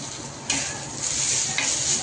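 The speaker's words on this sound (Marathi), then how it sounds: "मसाला चांगला भाजून झाला, मस्तपैकी फ्राय झाला." Masala of browned onion, coconut, garlic, peanuts and tomato frying in a pan for a spicy brinjal curry, a steady close sizzle with a couple of sharper bursts as it is stirred, no voices.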